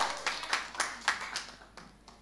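A church congregation claps for Jesus in a steady run of about a dozen sharp, fairly distant claps that thin out and soften toward the end.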